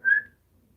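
A person whistles one short, bright, clear note that fades quickly into near silence, close by.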